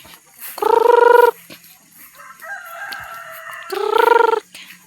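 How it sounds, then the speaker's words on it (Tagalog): Chickens run about while a rooster crows twice, loud and near, with a steady lower call and soft clucking in the gap between the two crows. "Dagan-dagan ang mga manok, oh."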